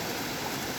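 A river flows steadily in an untouched riparian setting, a continuous broad rush of moving water close by, with no voices over it.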